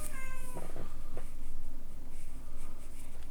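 A cat meows several times close by, short harmonic calls standing out over a steady background hum, with no talking.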